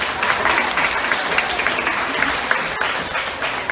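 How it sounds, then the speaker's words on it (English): Audience applause at a Columbus Zoo sea lion show, a steady, dense wash of clapping from a sizeable crowd that holds for several seconds without pause. "Give her a big round of applause."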